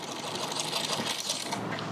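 Sewing machine run by foot pedal, making lock stitches: a steady, close mechanical whirring clatter that holds for about two seconds with no voices over it.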